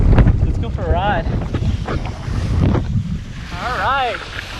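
Strong gusting wind from Tropical Storm Isaias buffets the microphone at a kiteboarding beach, roaring steadily with louder surges, while a person talks over it.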